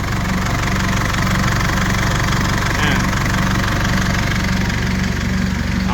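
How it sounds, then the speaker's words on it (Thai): A 2005 Isuzu D-Max SLX pickup's 2.5-litre common-rail diesel engine idles steadily with a low, even knocking rumble throughout, close up and continuous. "มีบริการส่งนะครับเครื่องเงียบๆเลยนะครับ"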